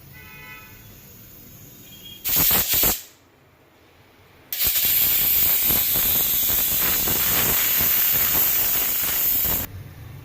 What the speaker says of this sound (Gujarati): ફૂલ ગેસ ઉપર ત્રણ સીટી મારી